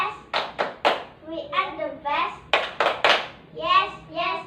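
Children in an elementary social-studies classroom clap in a chant, several sharp hand-clap bursts in quick groups alternating with kids' chanting voices, close and fairly loud.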